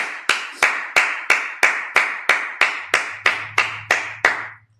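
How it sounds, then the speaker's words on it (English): At a Sabbath service, a congregation claps in unison, about a dozen sharp, evenly spaced claps ringing loudly in a roomy hall, with a faint low hum entering partway through. "Just clap it up."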